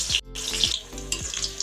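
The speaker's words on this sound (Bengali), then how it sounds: "এই তো আলুগুলো আমি এখন সুন্দর করে ভেজে নিব, লাল লাল করে।" Potatoes fry in a pan for a meat dish, a brief close crackle and sizzle with a few sharp spits and a short dropout.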